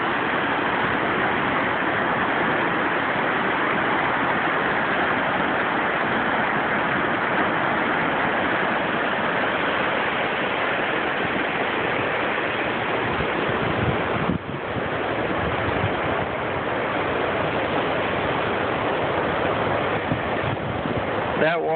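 Flooded river raging over a dam, a dense continuous roar of rushing water with wind buffeting the microphone, loud and steady throughout, with a brief dip partway through.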